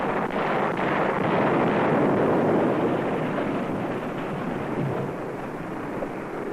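B-26 bombers of the Cuban Exile Air Force attacking an airfield at Havana, a heavy continuous roar of engines and rumbling blasts, loud and dense throughout with no voices.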